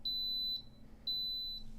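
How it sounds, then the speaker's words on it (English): An Instant Pot pressure cooker gives two clear, high electronic beeps, each about half a second long, separated by a short pause in a quiet kitchen. "you just have to wait 10 seconds and you'll hear a beep and you will start the cooking process"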